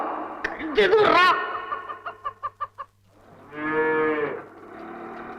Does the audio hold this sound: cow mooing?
yes